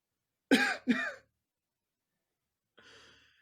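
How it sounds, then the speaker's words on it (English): Two short, quick coughs close together, followed after a pause by a softer breathy exhale. "Can you give me a little cough?"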